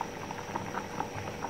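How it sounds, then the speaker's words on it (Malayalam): A pot of homemade coconut-based mackerel fish curry simmers on a gas stove, giving a soft, continuous bubbling with small pops, close and fairly quiet with no voices. "നമ്മളുടെ മീൻകറി തിളച്ചുകൊണ്ടിരിക്കുന്നു"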